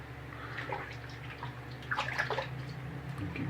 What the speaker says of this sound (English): Keep everything rinsed off.